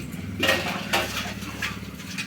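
Potatoes sautéing in a pan for soybean curry, with a few close metallic scrapes and clinks of a spoon against the pan over a low cooking hiss.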